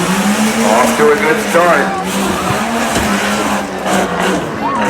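A rough truck driven by Drew Parkinson races around the dirt course at the 2018 Hartford Fair competition. Its engine drones and rises and falls as it works through the track, loud and close, while a commentator talks over it.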